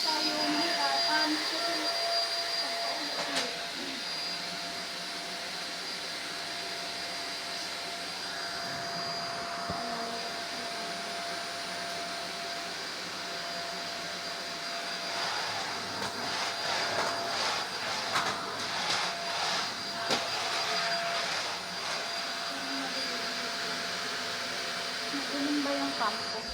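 A household vacuum cleaner runs steadily for the whole stretch as a floor is cleaned, a constant loud whine and rush with small shifts in pitch while the nozzle moves.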